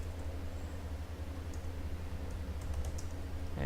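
Typing on a computer keyboard while text is entered into an input dialog box, a soft steady clatter of keys held low and constant over a droning background hum.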